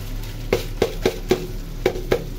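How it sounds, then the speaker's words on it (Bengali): Meat and rice frying together in a large pan on a farm kitchen fire, with a spoon stirring in regular scraping strokes over a low continuous sizzle, no voices. "ভাজা ভাজা করবো মাংস আর চাল একসাথে।"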